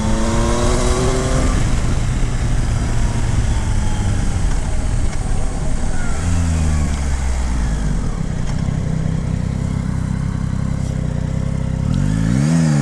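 A 2022 Yamaha Tracer 9 GT motorcycle accelerating on country roads, engine note rising through gears with shifts and wind rush, loud and continuous from the rider's position.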